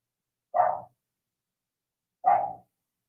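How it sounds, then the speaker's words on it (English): A dog gives two short, loud barks about two seconds apart, with silence around them. "the dog is barking"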